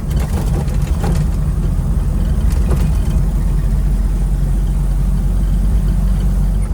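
Maruti Suzuki Omni van engine running steadily while driving through turns on back roads, a loud continuous low drone throughout with no pauses.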